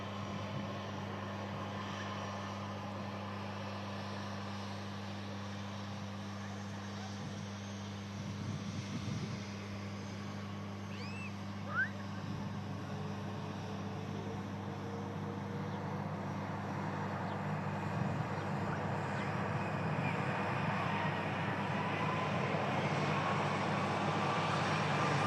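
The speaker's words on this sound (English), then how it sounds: "Virgin 330 on the spool up and takeoff roll from 23 left for New York." Virgin Airbus A330 engines spooling up for the takeoff roll from runway 23 left, a sustained distant jet roar that slowly builds and broadens over about twenty-five seconds, heard alone without talk.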